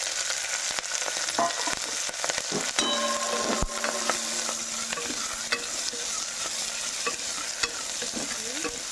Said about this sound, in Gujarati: ગરમમાં આપણે અજમો નાખીશું. પછી આપણે વાલોળ નાખીશું.